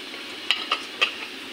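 Dum biryani ingredients, with mitha attar and homemade dum biryani masala, are mixed in a pot: three or four short, close scraping clinks of a spoon against the pot, spaced unevenly over a quiet background.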